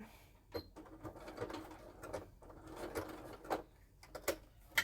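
A sewing machine stitching a bag handle whirs in short, uneven bursts, quiet and close, with little clicks and pauses between runs of stitches.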